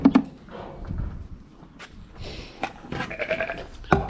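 Ewes bleating at feeding time after lambing on a livestock farm, several calls from near and farther off, with footsteps and shuffling among the flock.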